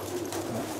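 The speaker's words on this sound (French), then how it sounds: "Et première surprise, un pigeon s'est invité dans le restaurant." A pigeon coos softly inside a restaurant, a low murmuring call over steady room noise, with no talk in between.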